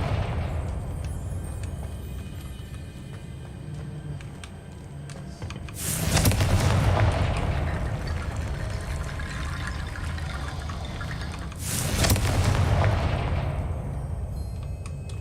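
Two Confringo spell explosions burst out in Hogwarts Legacy, each a loud whooshing blast about six seconds apart over a steady background of game sound.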